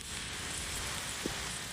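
Rain falls steadily in a town during a motorcycle road trip, a constant close hiss of drops with a faint soft knock near the end.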